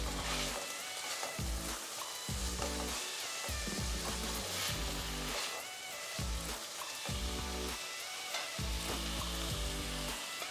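Ivy gourd (tindora) cooks in a pan with garam masala and salt, sizzling and crackling steadily throughout at a soft, even level. Faint stirring and scraping sounds come through the frying noise.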